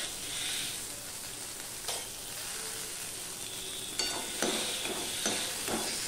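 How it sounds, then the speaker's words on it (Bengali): Okra dal with salt and turmeric sizzling in a pan while being stirred: a continuous hissing fry, then louder clanking scrapes of the spoon toward the end, close and loud, with no speech. "এবার মিনিট খানিক আমি এইভাবে নেড়ে চেড়ে নেব।"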